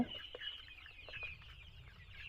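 Clucking from Egyptian Fayoumi chickens, 40-day-old vaccinated birds, fills a poultry farm in Jamalpur with a steady murmur of overlapping calls and a few sharper clucks over low background rumble.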